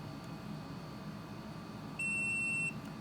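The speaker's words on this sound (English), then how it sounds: "I'm just checking continuity here." A multimeter gives a single steady continuity beep of under a second during a radio transmitter build, heard close against a quiet room hum.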